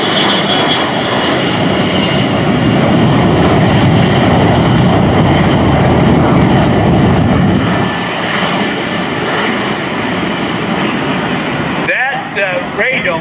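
A Boeing E-3 Sentry roars past in a flyby at the 2022 Dayton Air Show, a loud, broad engine rumble that slowly eases off, with a voice speaking just before the end.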